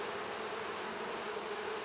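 Honey bees swarm and buzz over a hive frame packed with pollen, honey and larvae, a dense steady drone close by with no pauses.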